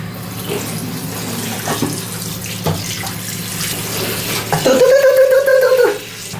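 Tap water runs into a sink while dirty jeans are hand-washed, a continuous splashing stream with sloshing fabric, growing louder and more gurgling toward the end before easing off.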